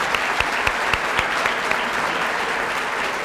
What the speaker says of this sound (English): let's just give a round of applause to all of our winners tonight